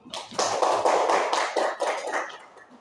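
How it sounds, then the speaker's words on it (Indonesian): An audience claps at a school principal's performance observation session, a short burst of hand claps that swells quickly and fades within a few seconds, with no talking over it. "Tepuk tangan Bapak Ibu."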